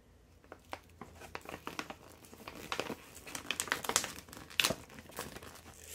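A grow bag for yams is folded by hand, and its plastic gives a close, steady crinkling and crackling with bursts of sharper rustles. The sound carries on for several seconds, and no one speaks.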